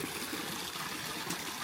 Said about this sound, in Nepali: मुढाबाट पानी निस्केकै गर्दो रहेछ है